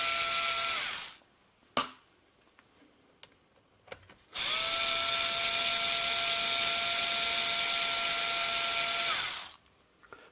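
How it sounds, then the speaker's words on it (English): Electric screwdriver loosening screws on a DSG6 mechatronic unit during a solenoid valve change: two long, loud, steady whining runs with a brief burst between, close up, no talk. "I will just untighten them first with the screwdriver."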